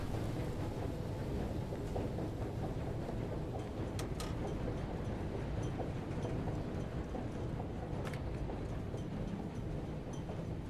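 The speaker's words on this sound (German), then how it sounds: "Hauptsache fürs Feeling ist der Motor an" A boat motor runs steadily in the video game FAR: Changing Tides, a continuous low droning rumble with faint clanks on top, holding an even level throughout.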